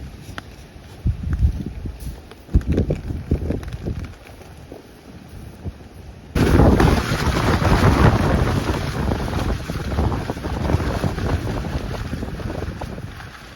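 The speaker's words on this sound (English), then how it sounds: "That wind really blew and lifted all the back end out of it." Strong wind buffets a camping tarp at a solo wild camp in torrential wind and rain, gusty rumbling at first, then a sudden loud, sustained roar of blowing air against the fabric close by.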